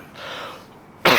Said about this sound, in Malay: Daripada KL sampai ke sini, dia batuk.